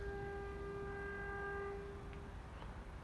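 A train horn sounds at Whittlesea station as one steady, harmonic chord held for about two seconds, then cuts off and leaves a low rumbling background.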